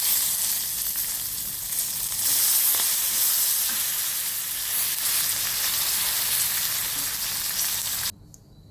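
Curry leaves hit hot tempering oil for a moong dal and ivy gourd curry, giving a loud, steady, close-up sizzle and hiss that runs continuously, then cuts off abruptly near the end.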